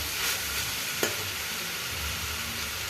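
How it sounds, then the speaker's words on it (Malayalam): Kerala-style beef fry ingredients being stirred and mixed in a hot pan: a steady, close sizzle of frying with scraping stir strokes and one sharp clack near the middle, no voices. "നല്ലപോലെ എല്ലാം മിക്സ് ചെയ്ത് കൊടുക്കാം."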